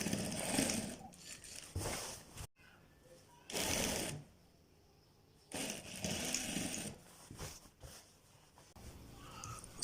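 A sewing machine stitches a child's kurta in several separate bursts, each running steadily for a second or two with quiet pauses between them, close by.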